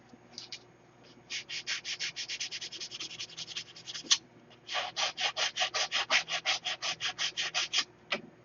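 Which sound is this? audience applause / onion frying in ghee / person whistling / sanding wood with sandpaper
sanding wood with sandpaper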